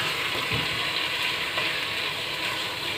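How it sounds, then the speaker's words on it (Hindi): Chunks of apple gourd (tinday) fry steadily in a pan with a continuous close sizzle and faint stirring, no voices over it. "ये इसको मैं अच्छे से भून लेती हूँ।"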